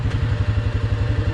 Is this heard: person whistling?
no